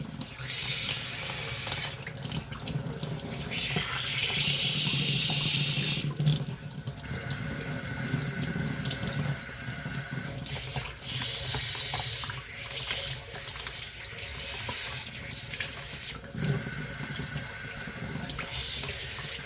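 Tap water runs steadily into a sink to flush an HP 920 printhead, a continuous splashing hiss that shifts in tone as the stream is moved around, close and fairly loud with no talk.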